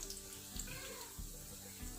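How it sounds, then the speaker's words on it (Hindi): Peshawari chapli kababs frying in a pan, a steady, quiet, hissing sizzle heard up close without any talking. "इनको भी अच्छी तरह फ्राई करेंगे।"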